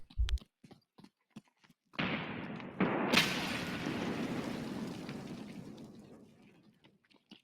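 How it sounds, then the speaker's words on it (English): A very close grenade explodes in an arena shooter match, a sudden broad blast at about two seconds with a second crack a moment later, then a long rumbling decay that fades over several seconds after a few faint ticks. "Very close grenade explosion."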